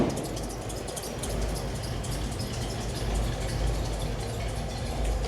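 A 1972 Ford Bronco engine idles steadily at close range, a continuous low rumble with a faint high hiss above it and no speech.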